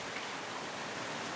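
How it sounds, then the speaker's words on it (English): Hail pelting down in South Florida while the sun still shines, a dense steady hiss of stones striking surfaces up close with no pauses. "and we have a hailstorm."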